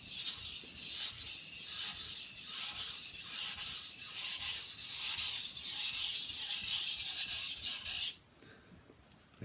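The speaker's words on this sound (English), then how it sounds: "Heavy on the coarse stone only, to raise a burr." Knife drawn with heavy pressure across a coarse sharpening stone, about a dozen close, regular grinding strokes in a steady rhythm that end abruptly, leaving near silence.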